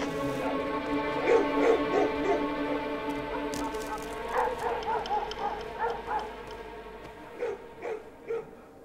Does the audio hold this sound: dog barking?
yes